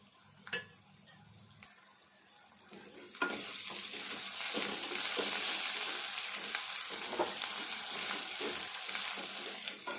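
Eggplant and other vegetables for a brinjal and spinach curry hit a hot pan after a few soft clinks, breaking into a loud, steady sizzle with occasional stirring scrapes that carries on to the end.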